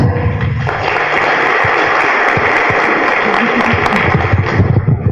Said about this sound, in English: Guys, a very, very hearty clap.